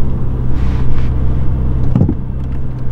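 A Ferrari 488 GTB on a test drive, its engine holding a deep, steady rumbling drone with a brief throaty swell near the middle. The sound is loud and close, with no talk over it.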